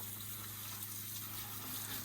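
A long shower hose sprays water to rinse a truck, including its hot cast-iron exhaust manifold, producing a steady broadband hiss with no breaks and a faint low hum underneath.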